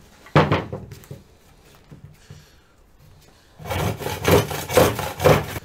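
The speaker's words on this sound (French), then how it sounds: "Et là, on va venir scier." Hand sawing of wood for the legs of a homemade wooden Christmas reindeer: a single rasp near the start, a quiet pause, then a run of steady back-and-forth strokes, close and fairly loud.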